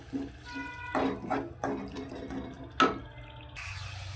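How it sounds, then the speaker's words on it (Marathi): Reserved cooking water from boiled chickpeas is poured into a pan of chole masala on the stove, a few splashy bursts of liquid hitting the pan with short pauses between, close and moderately loud. "आपण ह्याला मिक्स करून घेऊ आणि थोडं पाणी टाकूया"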